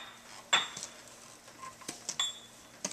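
A beater works cookie dough in a mixing bowl, giving light scattered clinks and scrapes against the bowl at close range, faint and irregular.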